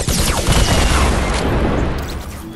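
A rocket explosion in Fortnite, a loud, dense roaring blast that fills the whole clip with rumbling broadband noise, staying heavy for about two seconds before thinning slightly near the end.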